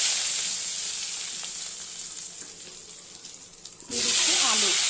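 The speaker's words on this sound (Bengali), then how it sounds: "এবার আমি ওই তেলেই দিয়ে দেবো রাঁধুনি ফোড়ন আর দিয়ে দিচ্ছি দুটো তেজপাতা।" Radhuni seeds and two bay leaves dropped into hot oil left from frying katla fish, a steady sizzle easing down, then a sudden loud burst of crackling spitting as they hit the oil.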